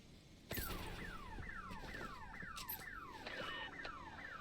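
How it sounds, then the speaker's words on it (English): Car alarm in the video game Redfall wailing with a loud, repeating rising-and-falling electronic whoop in quick regular cycles, continuous and close, with no talking over it. "I'm hacking the car alarm."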